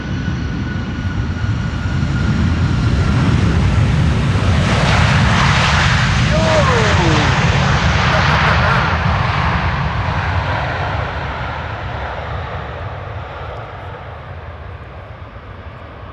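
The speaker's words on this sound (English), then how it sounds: "That's another KLM wide body using the reversers" A KLM wide-body airliner lands with its thrust reversers deployed, a loud sustained jet roar that swells and peaks mid-clip with a rising whine, then slowly fades; a voice speaks faintly at times.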